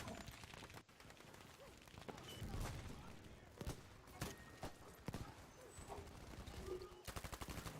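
Bursts of automatic gunfire and scattered shots in a combat game, sharp cracks spaced across several seconds, with a rapid volley near the end.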